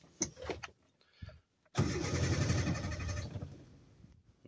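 Car engine running on homemade hydrogen cranks a few times, then catches and runs with a rough, loud idle close by before dropping away.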